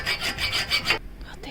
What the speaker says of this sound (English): So, hacksaw it is.